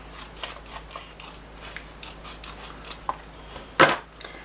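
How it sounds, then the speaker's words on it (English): Scissors snip paper during junk journal crafting, a few soft cuts scattered through the quiet, then one sharper, louder crisp snip near the end; close and isolated. "Just going to cut the top of it off."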